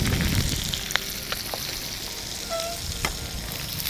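Whole shallots frying with chicken and dried chillies for a village-style Pallipalayam chicken fry, a loud, close, continuous sizzle with a few sharp crackles and spatters.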